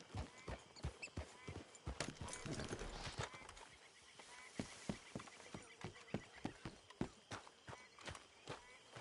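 Horse hooves clip-clop steadily in Red Dead Redemption 2, a regular walking rhythm of sharp close hoof strikes running throughout, with a voice talking briefly over them.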